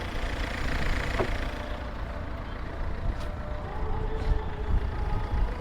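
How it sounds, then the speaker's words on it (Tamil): A used petrol hatchback idles steadily close by, a low rumbling engine drone holding even throughout with a couple of faint higher clicks over the top. "இந்த வண்டி ஸ்டார்ட் பண்ண காட்டுப்பா"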